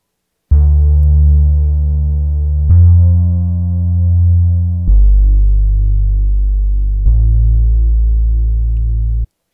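Deep, sustained bass notes of a lo-fi hip hop beat hold steady, shifting pitch every couple of seconds across four long tones, loud and alone with no drums or voices.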